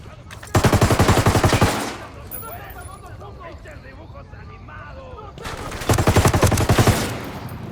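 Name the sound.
gunfire in video game Ghost Recon Wildlands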